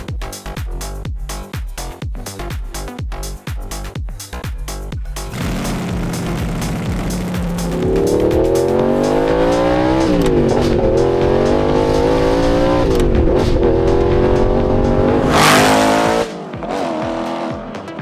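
An Audi R8 with a V8 engine fresh from a full overhaul, heard close and loud: rapid engine pulses first, then a rising roar as it accelerates through gears, with a sharp tire squeal near the end.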